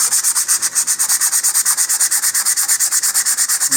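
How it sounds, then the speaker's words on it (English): 100-grit sandpaper roughens the surface of a model rocket's body tube in fast, even back-and-forth strokes, a loud, close, rhythmic scratching that repeats several times a second with no voices. "I'm going to take some sandpaper and just roughen up the surface of the entire tube here"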